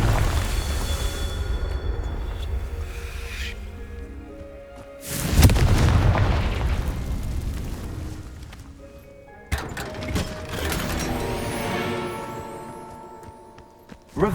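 Fire-spell explosions from Hogwarts Legacy: a loud booming blast hits around the middle, then a second burst follows, both rolling out over a busy layer of game music and effects.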